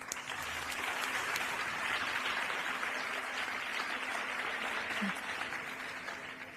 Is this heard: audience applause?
yes